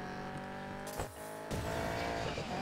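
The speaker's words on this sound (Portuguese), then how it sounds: "O carro aparece do nada" An engine roars past in a racing video game, a loud sustained tone with a brief dip and swell as the car sweeps by, then a steady drone continuing close.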